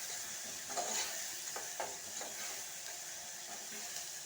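Curry with onions and soya chunks hisses in a hot pan as a spoon stirs it in a few scraping strokes, a close, even sizzle throughout with no voices.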